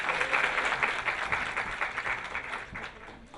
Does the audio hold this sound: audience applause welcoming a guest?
yes